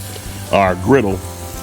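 Tuna sizzles and fries on a flat top griddle heated past 400 degrees over a firepit, a steady close crackle with someone talking over it.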